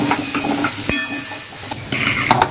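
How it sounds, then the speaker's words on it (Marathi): Dried shrimp chutney fries loudly in hot oil, a close, dense sizzle with a spatula stirring and scraping against the pan, including a sharp knock near the middle. "ही चटणी घालून घेऊया आणि चांगली फ्राय करून घेऊया तेलामध्ये"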